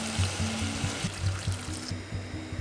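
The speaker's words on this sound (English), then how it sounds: "And we'll add in about 1 liter of water." Water pours into a pot of partly cooked beef and radish for Korean soup, a brief close splashing gush that trickles off near the end.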